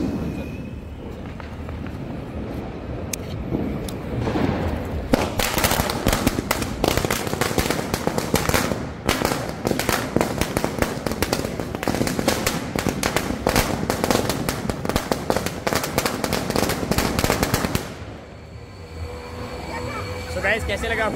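Diwali firecrackers burst in a long rapid barrage of sharp cracks and bangs, loud and close, running for over ten seconds before stopping, with people talking around them.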